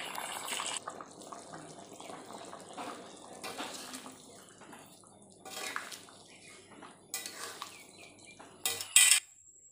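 Egg and potato curry being stirred in a pot before water goes in, heard as soft, intermittent bursts of splashing water with light clatter of utensils and pans, fairly quiet, with a louder splash near the end.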